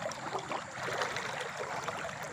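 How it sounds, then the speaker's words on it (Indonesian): Water gurgles and trickles around feet standing in a rocky river stream, a steady, close, continuous babbling wash with no talk. "Terdengar juga suara gemericik airnya ini karena kaki saya sedang diterjang"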